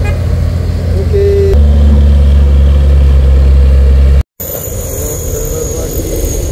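A trailer truck engine drones on the road, a loud steady low rumble that shifts in pitch midway, with a brief dropout before continuing.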